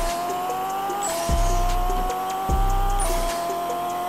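A car engine in the Pixel Car Racer game revs in repeated rising pulls, a buzzing synthetic whine that climbs and drops about three times with brief low thumps between, loud and steady with no talk.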